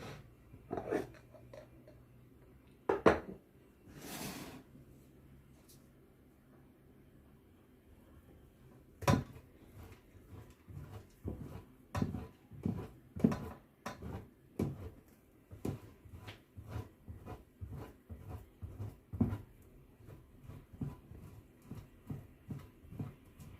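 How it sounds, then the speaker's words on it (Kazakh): Cheese rubbed down a fine kitchen grater, a run of short, regular rasping strokes that grows steadier in the second half, close and fairly quiet, with a few knocks early on. "Енді сырты осындай майда теркадан өткіздіреміз."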